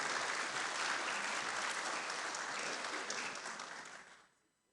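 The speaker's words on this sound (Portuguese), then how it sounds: "Ao vereador, uma salva de palmas por essa nobre iniciativa." Sustained applause from an audience at a formal municipal council ceremony honouring a city councillor, steady and dense for about four seconds before tapering off to quiet.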